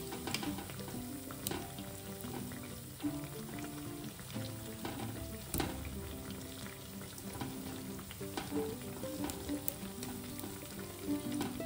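Sabudana vadas deep-frying in hot oil in a pan for a fasting-day recipe, giving a steady close bubbling sizzle throughout with occasional clinks and scrapes of a utensil turning them.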